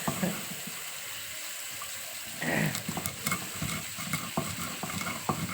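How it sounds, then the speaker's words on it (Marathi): Fish frying in a pan in a home kitchen, a steady low sizzle of hot oil with occasional spatters and scraping clatter of a utensil, no voices. "आणि मी तळते मासं"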